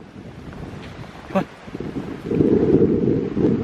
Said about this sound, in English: Oh, it's that wind.